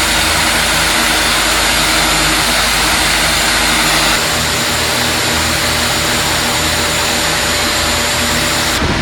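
A vacuum cleaner runs loudly and continuously over foam mats on the floor of a climbing gym in Iloilo, a harsh motor whine whose pitch and tone shift partway through as the nozzle moves, with no talking.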